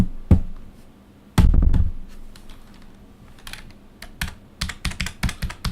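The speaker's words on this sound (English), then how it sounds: "This is the keyboard tapping right in front of the mic." Computer keyboard tapped close to a desk-mounted microphone: a burst of sharp, clattering keystrokes, a pause with faint scattered clicks, then a rapid run of distinct, loud taps near the mic, with no talking.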